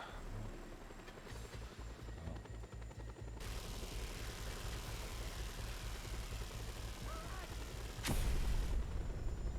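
A helicopter in the Just Cause 2 video game is blown up in mid-air: a steady, loud rotor and engine drone runs throughout, then a sudden sharp blast erupts near the end and the roar swells and continues.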